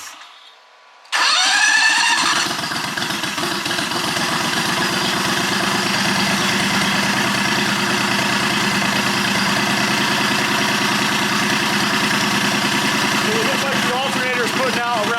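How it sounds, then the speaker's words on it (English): A John Deere 214 garden tractor built as a mudmower cranks and fires up, then settles into a steady, loud, close idle that carries on without a break. "now I'm going to fire it up"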